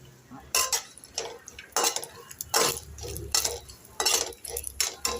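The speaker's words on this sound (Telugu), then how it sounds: "కొబ్బరి ఇలా వేయించుకోండి" Grated coconut frying in a little oil in a pan, stirred with a utensil that scrapes and clinks against the metal in repeated near strokes over a low sizzle.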